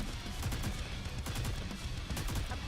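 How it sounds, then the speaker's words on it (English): Rapid crackling bursts of firecrackers set off in a video game, a dense, steady stream of sharp pops lasting throughout at moderate loudness with no talk. "Some firecrackers ought to do the trick"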